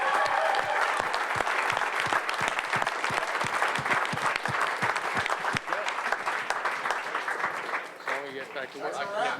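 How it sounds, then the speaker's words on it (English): An audience at an event gives coaches a big round of applause with loud, dense clapping throughout. Cheers and voices rise over it near the end. "So I'll get one last big round of applause for our Superstar Diamond coaches."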